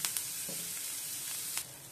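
Green chili and onion sizzle softly in melted butter in a pan, a faint steady fry with a few sharp crackles and a light stir.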